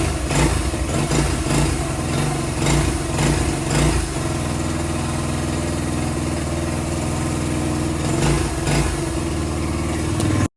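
A rebuilt 1986 Honda XR100R motorcycle engine runs steadily and loud and close, with a lumpy idle and a few blips of throttle early on, then a settled even chug through to the end; no voices.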